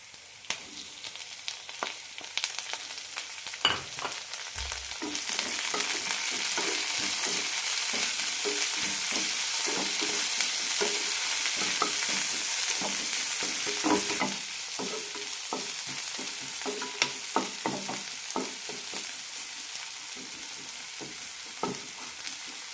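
Onions and tomatoes fry in a pan for a banana flower curry, giving a steady hiss and sizzle with scattered stirring clinks and scrapes, close and fairly quiet, with no talking.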